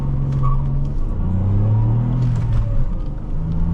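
A 2006 Saab 9-3 Aero SportCombi engine revs and builds as the car accelerates from 0 to 60, a steady loud rumble with rising tones, heard from inside the car.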